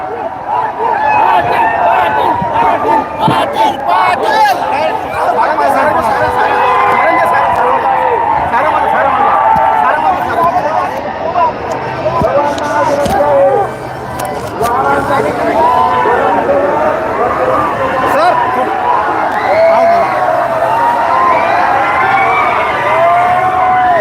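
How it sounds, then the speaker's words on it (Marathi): Large crowd of young people cheering and chattering at a Maratha community peace rally outdoors, a loud sustained roar of voices with shouts rising and falling, and someone talking over it. "प्रचंड जल्लोष तरुणाईचा जल्लोष आपल्याला बघायला मिळतोय"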